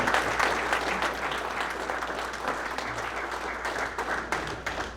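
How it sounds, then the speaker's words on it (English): Sustained applause from a gathering at a regional golf professional championship event, a dense, continuous patter of many people clapping, loud and steady with slight fluctuations, no speech over it. "So give all of yourselves a round of applause for what you did for that today."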